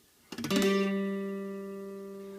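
A single strummed guitar chord rings out, a few strings sounding dull and clipped while others sustain clearly, decaying slowly.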